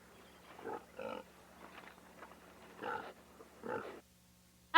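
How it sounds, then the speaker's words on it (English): Several short, faint grunting oinks from purple pigs in a video game, spaced apart over a quiet background. "All the pigs have escaped to the hippo house."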